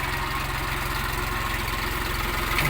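A Jinma 244 mini tractor's small diesel engine, a 2023 model, idles close by with a steady, rapid low chugging that holds constant throughout.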